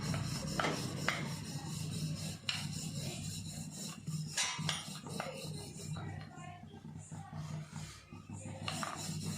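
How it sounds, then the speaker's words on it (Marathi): A rolling pin presses and turns puran poli dough on a board, making soft repeated rubbing and wooden knocks, with light clatters now and then. "अशी फिरवत फिरवत हलक्या हाताने पुरणपोळी लाटली मी"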